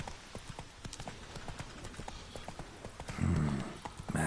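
Horse hooves clip-clop at a steady trotting rhythm in The Witcher 3 game, close and clear, with a brief louder swell of low rumble near the end.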